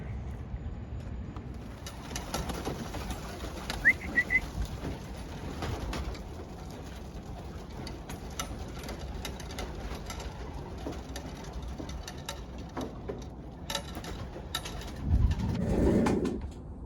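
Racing pigeons coo in their loft, soft repeated calls over a quiet background, with a brief higher chirp and a few knocks and scrapes near the end.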